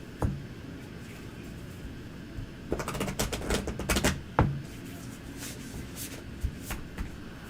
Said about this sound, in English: Shuffle and cut.